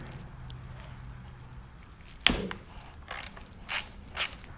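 A ratchet with a 4mm socket works a battery bolt on a Jeep Gladiator, giving a sharp metallic click followed by several short ratcheting bursts, close and quiet between them.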